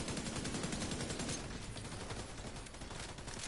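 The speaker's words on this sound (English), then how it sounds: "What's this yellow back there with the damn machine gun doing?" Sustained automatic machine gun fire in The Division 2 video game, a steady rattling stream of rapid shots that stays loud and dense throughout without a break.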